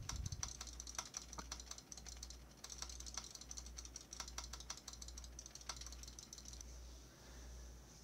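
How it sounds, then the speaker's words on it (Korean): Computer keyboard keys and mouse buttons clicked near a Turtle Beach Recon Spark headset microphone, picked up as faint, rapid, irregular tapping over a steady low hum. "이것을 확인해 보기 위해 키보드와 마우스 버튼을 눌러 보도록 하겠습니다."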